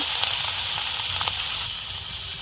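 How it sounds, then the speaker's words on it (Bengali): Small puti fish coated in spice paste sizzle in hot oil in a pan, giving a steady, fairly loud hiss with faint crackles and no talking. "তেল গরম হয়ে গেছে পুঁটি মাছগুলো দিলাম"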